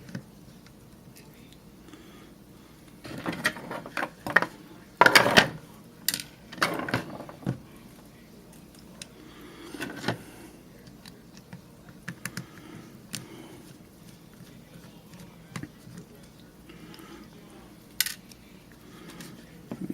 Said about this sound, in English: We're going to start by taking the screws out of this side, one with the strap holder.